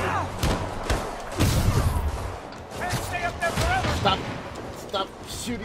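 Enemy gunfire in the Spider-Man PS4 video game, a busy run of shots and thuds with game combat noise, overlapping a voice talking throughout.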